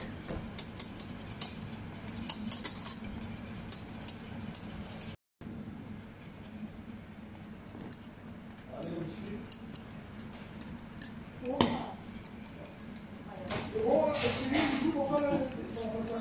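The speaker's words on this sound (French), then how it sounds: "Je fouette, comme ça." A whisk scrapes and clinks against a saucepan as pastry cream cooks on the stove for a pistachio-raspberry cake, a steady metallic rattle with sharper scrapes near the end and voices talking over it.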